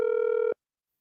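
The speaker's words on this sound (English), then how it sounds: "But Paul phone ringing though." A single telephone ring tone, a steady electronic buzz lasting about half a second before cutting off abruptly into silence, with no one speaking.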